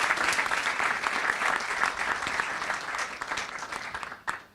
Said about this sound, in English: So give this team, my team, a round of applause.